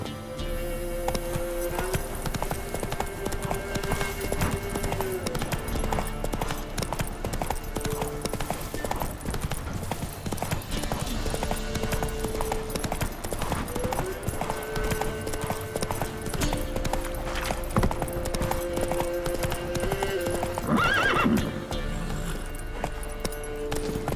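Roach, the horse in The Witcher 3 game, gallops in a fast, steady clip-clop of hooves that runs throughout, layered with game music and a brief whinny near the end.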